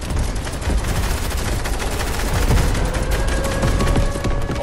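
Rapid SMG fire in a Fortnite match, dense loud continuous bursts with overlapping shots and other gunfire clattering without pause.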